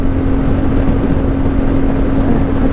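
CFmoto 450MT motorcycle engine running steadily at road speed, a continuous loud drone with a steady hum and wind rush and no rise or fall in revs.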